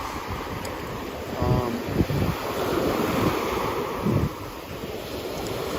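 Ocean surf at Sunny Isles Fishing Pier in Miami washes in a steady broadband rush under heavy wind buffeting the microphone, with a faint voice murmuring briefly in the background.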